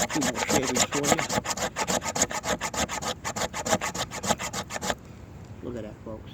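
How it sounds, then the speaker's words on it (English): Quick repeated strokes of a blade carve shavings from a resinous fatwood stump, a fast rhythmic scraping series close up, stopping abruptly near the end, followed by a brief voice. "I'll just get a few more shavings for"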